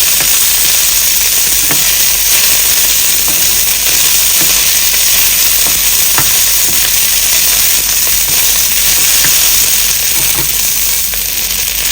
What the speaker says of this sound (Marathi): जोपर्यंत मिरच्या व्यवस्थित भाजतात तोपर्यंत लसणाला पण थोडासा चटका बसतो